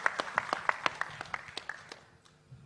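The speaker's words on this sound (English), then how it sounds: "Give a big applause for him." Claps from a crowd at a national seafood exports workshop in Vizag honour a minister. The claps come as a quick, uneven patter and fade out after about two seconds.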